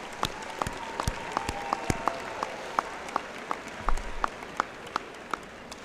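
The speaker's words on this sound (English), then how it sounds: "Graduates, please join me in giving them a round of applause" Graduates at a Florida A&M University spring commencement applaud their supporters, a sustained round of clapping from a large crowd, moderately loud and even, with distinct individual claps standing out over the steady wash.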